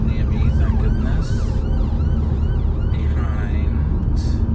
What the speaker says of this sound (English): there's an ambulance not near me